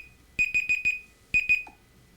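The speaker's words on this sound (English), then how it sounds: "my alarm going off." A loud electronic alarm clock beeps in two bursts, four quick beeps and then two, each sharp and close, with a faint low tone at the end.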